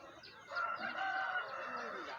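A rooster crows once, a fairly faint, drawn-out call with no other sounds around it.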